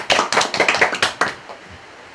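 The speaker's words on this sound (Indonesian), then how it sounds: "Tepuk tangan dulu" A small group claps together in a classroom, a burst of sharp, loud, close hand claps in quick uneven rhythm that stops abruptly, followed by near silence.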